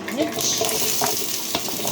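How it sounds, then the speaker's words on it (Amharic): Chopped potatoes fry in a small amount of oil with soft crackling and sizzling, plus a few clinks from stirring, close and fairly quiet. "ይሄው እቺን በመታከል ዘይት ነው የምጠብሰው እኔ"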